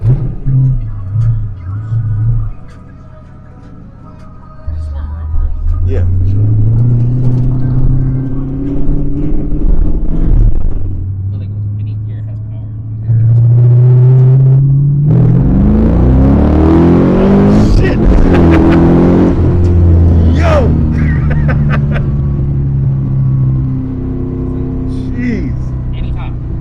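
A Porsche 911 997 swapped with a Blueprint LS3 427 cubic-inch stroker crate engine revs hard in repeated loud, deep blips and sustained pulls, rising and falling close by, with people talking excitedly between the revs.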